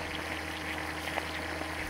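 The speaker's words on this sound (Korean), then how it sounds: "냄비에 설탕과 간장을 넣고 물을 부어서 끓여주세요. 양념이 끓기 시작하면 잘라둔 팽이버섯을 넣어줍니다." A pot of soy sauce, sugar and water seasoning for braised enoki mushrooms bubbles at a steady boil, giving a continuous close, even burble and hiss with no talking.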